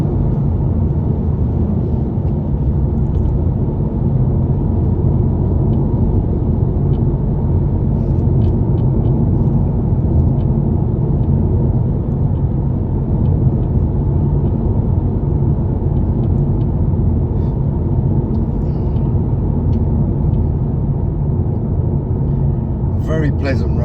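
A car drives along a quiet road in Fuerteventura toward Triquivijate in hot weather, its engine and road noise forming a loud, steady rumble throughout with no break.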